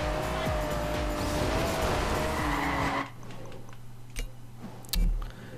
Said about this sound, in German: Das muss geil aussehen, das Auto geht leicht quer.